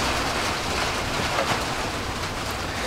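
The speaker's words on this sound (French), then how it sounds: "le bruit de la pluie qui tombe sur le toit" Steady rain drums on a roof, a dense, even hiss with fine patter filling the whole stretch at constant loudness, nothing else standing out.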